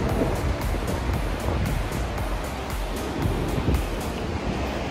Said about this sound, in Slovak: Sme mokrí kvôli Viktorínnym vodopádom, ktoré stále vidíme.